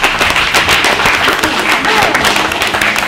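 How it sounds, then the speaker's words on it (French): A crowd at an outdoor team games event in Le Mas d'Azil applauds, loud dense clapping with some cheering sustained throughout. "Applaudissons bien fort les bleus"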